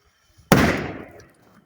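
An anar fountain firework lights with a single sharp burst that fizzes and fades over about a second, loud and close, with no voices.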